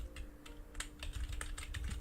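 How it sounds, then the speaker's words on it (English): Rapid, irregular keystrokes clatter on a cheap, loud computer keyboard, close and sharp, with no talking over them. "I know I have a loud keyboard."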